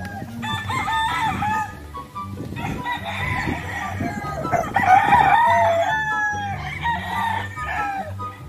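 Gamefowl roosters on a farm crow repeatedly in long, loud calls, several birds overlapping nearby, with clucking between the crows.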